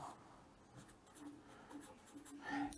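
Pen writing a name on paper, faint quick scratching strokes in a quiet room, growing slightly louder toward the end.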